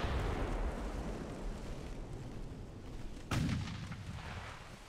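Naval gunfire in the warship game Ultimate Admiral Dreadnoughts, with a rumbling boom fading at the start and a second sharp cannon blast midway, followed by a rolling decay over a low background.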